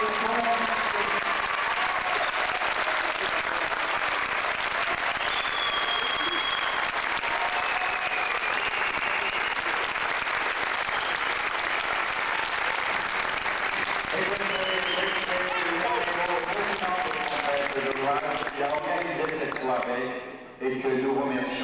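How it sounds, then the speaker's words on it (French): Audience applause and acclaim at a farewell gala, a long sustained roar of clapping from a large crowd that fades near the end as a voice begins speaking. "je vous demanderai de l'acclamer de l'applaudissement"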